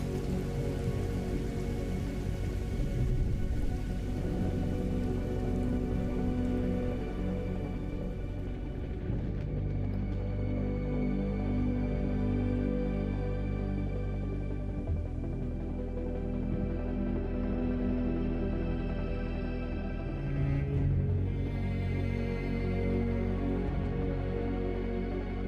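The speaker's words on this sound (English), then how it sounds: "I always find it how it always finds a way to rain when the building plan comes in." Steady rain falls throughout a State of Decay 2 survival game, a continuous even wash of drops with a low rumble underneath and no other sounds standing out.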